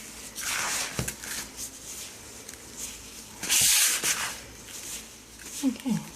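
Hands rub and crumble a dry bath bomb mixture to break up clumps, giving soft, repeated gritty scrubbing strokes at close range with brief pauses between bursts.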